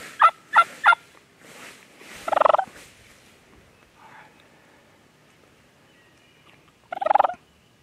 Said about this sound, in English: What you're hearing now is a little bit of old school scratching the leaves and clucking and purring, some whines and soft yelps.